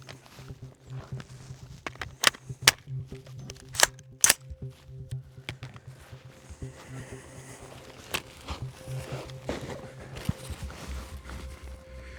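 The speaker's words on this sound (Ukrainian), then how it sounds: "Чотири постріли з сильного плеча, чотири постріли зі слабкого плеча." Rifle shots at a firearms training range, a string of sharp, loud reports in an irregular cluster early on, then scattered shots with some speech and movement noise between them.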